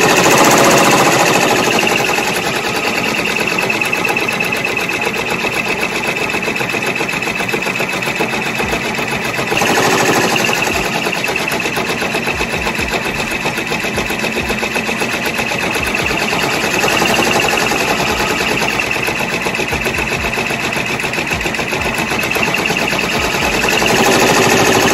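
Computerized embroidery machine stitching a name onto a baby gown, a steady, loud rapid needle chatter running continuously close by, with a brief change in pitch around the midpoint and no talking.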